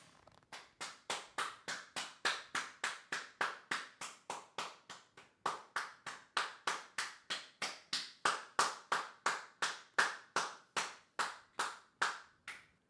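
Hands clap in an anime episode, a steady sequence of about thirty crisp, evenly spaced claps, close and clear with no talking.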